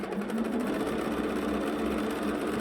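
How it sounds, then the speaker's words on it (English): A sewing machine stitches a quilt with a steady, fast, even whirring hum, running continuously and close up with no pauses or talk. "Let me sew off, and I'll show you what it looks like."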